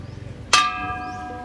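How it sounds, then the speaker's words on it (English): A temple bell at a cave temple in Kanchanaburi, Thailand, is struck once for luck, giving a sharp metallic clank and a ringing tone that fades slowly over faint outdoor background noise. "you can come here and you can clank the bell"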